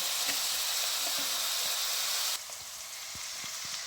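Steady hissing sizzle of onions frying in a pan to a light golden colour for a mixed vegetable dish, close and continuous, dipping slightly in level partway with faint stirring knocks.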